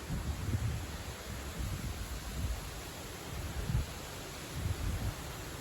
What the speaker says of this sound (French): On entend le bruit du vent.